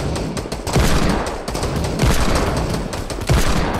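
Rapid bursts of gunfire in Fortnite, shooting something down, loud and close, with repeated volleys and brief pauses between them.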